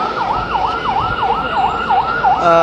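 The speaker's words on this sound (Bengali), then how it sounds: "এখানে দমকল বাহিনীর যে গাড়ি কিছুক্ষণ পর কিন্তু আসলে একটি করে গাড়ি ভিতরে ঢুকছে" A fire engine siren wails in a fast, repeating up-and-down warble, loud and fairly close, over a low rumble of traffic, as engines arrive at a fire at Hazrat Shahjalal International Airport.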